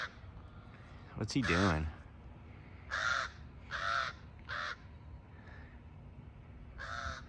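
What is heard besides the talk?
crow cawing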